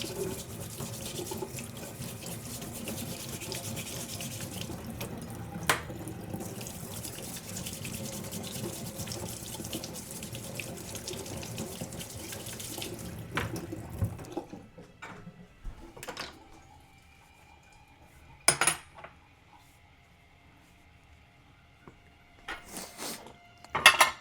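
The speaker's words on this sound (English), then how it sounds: "Actually, I have to wash my fork and knife." Running tap water splashes steadily into a sink as a fork and knife are rinsed, a continuous wash for about fourteen seconds, then the flow stops, leaving scattered clinks and knocks of cutlery and dishes.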